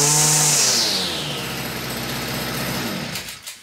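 Stihl FS55 string trimmer engine revving loud and close after starting, its high two-stroke whine dropping back to a steady, buzzing idle that trails off near the end.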